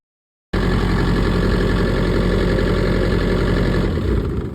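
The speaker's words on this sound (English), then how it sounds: "Immediately, you'll hear the refrigeration unit engine cut out." After a moment of silence, the diesel engine of a Carrier APX truck refrigeration unit roars loud and steady nearby, then begins to sag and wind down at the very end.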